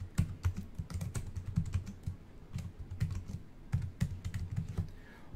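A function name is typed on a computer keyboard in quick, irregular bursts of close, crisp key clicks with brief pauses, with no voices.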